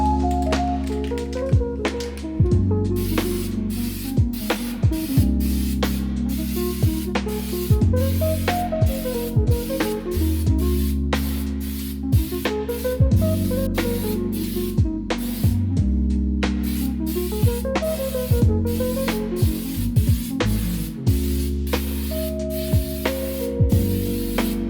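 A $4 Harbor Freight spray can hisses in long, repeated bursts with short pauses between them as paint goes onto the headliner of a 2000 VW TDI Beetle, the can's rattle and clicks sounding close and loud.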